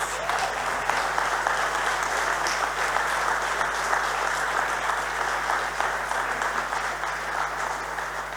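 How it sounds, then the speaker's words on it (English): Sustained applause from a large audience at an architectural technology awards ceremony, steady and dense clapping for several seconds with no voices standing out. "Please give them a big round of applause."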